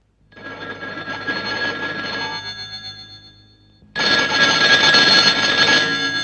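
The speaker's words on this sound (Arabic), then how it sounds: "التليفون ده علشانك." A telephone rings indoors with a loud, bright electric bell trill, one long ring that fades slightly, then a brief pause and a louder second ring, with no talk over it.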